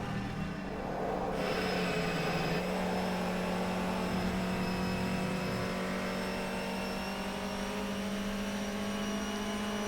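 A Honda Civic BTCC front-wheel-drive touring car at Silverstone in rFactor 2: a loud, steady engine drone with strong harmonic whine, held at high revs with small shifts in pitch, and no break throughout.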